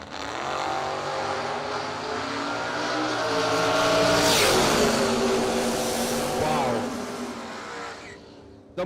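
A fuel-injected Corvette races down a drag strip at a Christmas bash event, its loud engine roar building and peaking mid-pass before fading, with an announcer's voice over the noise.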